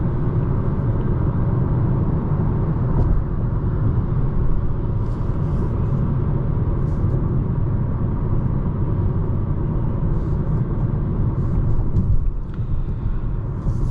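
Cabin of a 2026 Hyundai Sonata Hybrid coasting with the foot off the accelerator, a steady loud low road and engine rumble filling the interior throughout with no voices.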